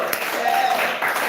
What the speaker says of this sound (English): Guys, let's give him a round of applause.